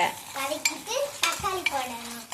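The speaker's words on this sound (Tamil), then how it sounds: "இஞ்சி பூண்டு பேஸ்ட்டு போட்டாச்சு அதையும் சேர்த்து வதக்கி எடுத்துருங்க" Ginger garlic paste is sautéed and stirred in a clay pot, with a few scraping, knocking strokes of a spoon against the pot while voices talk over the cooking.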